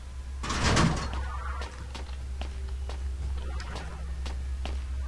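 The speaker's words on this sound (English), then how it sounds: "Oh, I can close doors behind me." A door swings shut in the horror video game Storm Child, a close thud with a creaky swish, followed by faint tapping steps over a low steady ambient hum.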